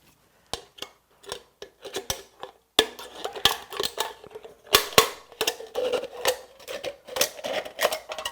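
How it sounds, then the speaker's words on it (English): Tin snips and scissors cutting through the top of an aluminum can, a run of sharp metallic snips and crunching cuts, sparse at first, then quicker and denser, close up with no talking. "I'm just cutting through the top, and then I come back in with the scissors"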